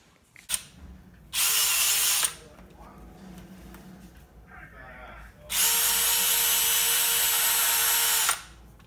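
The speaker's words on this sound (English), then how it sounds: "We're going to see if we can break through Putty with a drill." A power drill boring into putty runs in two loud sustained bursts, the first about a second long and the second nearly three seconds, with quieter handling noise between them.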